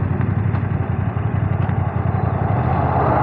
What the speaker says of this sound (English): Loads of low-end torque. It pulls away like crazy. More than enough power on this engine.